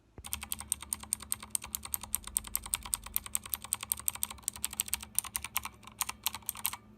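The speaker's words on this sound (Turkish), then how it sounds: "Mavi Switch bu arada sesini dinletmeyi unuttum. Hemen onu da dinleteyim." Fast typing on a GamePower Saber RGB keyboard with blue switches: rapid, crisp, clicky keystrokes close by and fairly quiet, heard alone.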